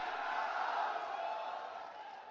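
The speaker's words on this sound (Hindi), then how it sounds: "ताली बजाकर स्वागत करें।" Large crowd at an outdoor political rally for Priyanka Gandhi cheering and applauding, a dense continuous roar of voices and clapping that swells slightly, then eases off toward the end.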